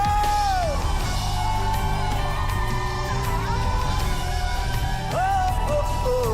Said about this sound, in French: Des cris de victoire au Seigneur.